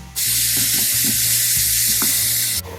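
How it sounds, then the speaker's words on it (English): Onions sautéing with a big pinch of salt in a pan for chicken curry, a steady loud sizzle with occasional soft stirring scrapes, continuous for nearly three seconds before cutting off. "So we're going to saute this until they turn a little golden brown."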